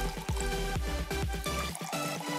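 Water is poured onto a small cactus in quick, gurgling splashes, several short bursts one after another with a brief pause near the end.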